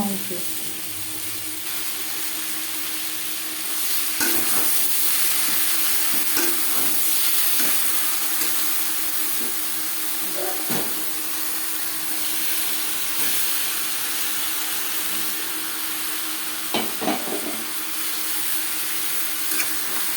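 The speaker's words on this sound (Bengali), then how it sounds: "পেঁয়াজ হালকা করে ভাজা হয়ে গেছে এই পর্যায়ে দিয়ে দেব ম্যারিনেট করে রাখা" Marinated chicken goes into lightly fried onions in a pan for a potato chicken curry, giving a steady hiss and sizzle with occasional scraping stir strokes, and no talking over it.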